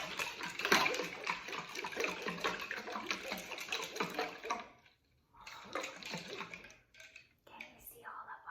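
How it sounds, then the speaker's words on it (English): Water and blue paint sloshing as a jar is shaken, a close, busy liquid rattle in bursts with a brief pause and a few short splashes near the end. "I'm actually going to shake it up a little bit to get the blue paint mixed in"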